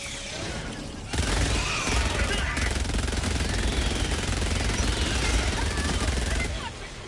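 Rapid continuous automatic gunfire from a zero-recoil gun in the video game Helldivers 2, a dense loud roar of shots lasting several seconds before cutting off, with a quieter lead-in.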